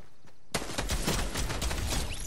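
Rapid bursts of gunfire from the video game Fortnite erupt after a brief quiet start, forming a dense, loud, continuous volley.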